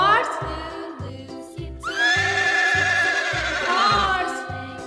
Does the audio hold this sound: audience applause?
no